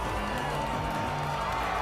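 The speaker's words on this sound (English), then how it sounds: "Faris makes her entrance to thunderous applause." Crowd applause and cheering in the Steins;Gate video game, a brief dense wash of clapping and cheers at a fairly low level throughout.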